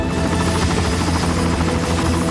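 A Bell Jet Ranger executive helicopter flies overhead with a loud, steady rotor throb and turbine whine, dense and continuous throughout, with nothing else audible.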